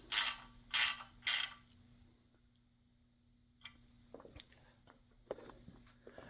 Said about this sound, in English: we can go ahead and tighten this lower nut again